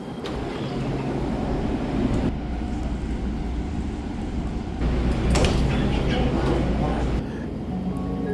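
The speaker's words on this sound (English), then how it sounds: "And here's my next train. I'm gonna hop on it, ride one more stop" An LA Metro A Line train at Glendora station rumbles steadily and loudly throughout, with rolling rail noise, hiss and brief higher squeals layered over the low, continuous roar.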